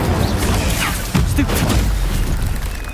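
A fire spell cast in the video game Hogwarts Legacy, a loud whooshing burst with a deep boom amid dense combat effects, close and full.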